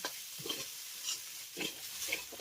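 Sago pearls fry in ghee with a soft, steady sizzle and faint scraping as they are stirred in the pan, heard close and fairly quiet.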